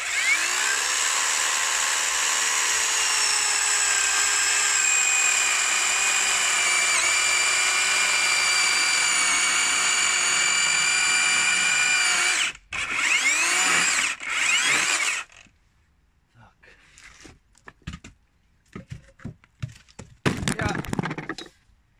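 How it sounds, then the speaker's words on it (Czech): A Procraft PKA40Li cordless chainsaw whines steadily at high pitch, cutting wet frozen wood for about twelve seconds, then stutters and stops in bursts, with a few short revs near the end. "to řeže fakt pěkně ta pila teda"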